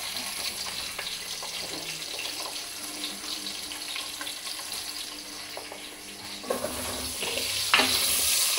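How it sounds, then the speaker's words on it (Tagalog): Ginger sautés in a pan for monggo, giving a steady, moderate sizzle throughout. A few scrapes and clinks from stirring come through toward the end. "nag-gisa na siya. Naglagay na siya ng luya."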